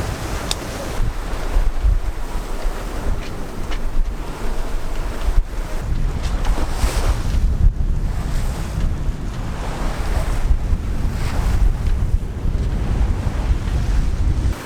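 Wind buffets a sailboat beating upwind at speed, with waves rushing and splashing against the hull in a loud, continuous wash and heavy wind noise over the microphone.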